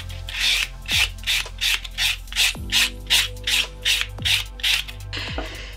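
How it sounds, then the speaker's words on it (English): A white buffing block rubs back and forth over an acrylic stiletto nail in a steady series of about a dozen short, close raspy strokes, each one brief and evenly spaced, with no talking. "take a white block to buff the nail."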